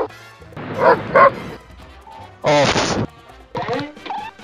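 A dog barks in several loud, close bursts of yipping barks separated by short pauses, with whimpering tones between them and no talking.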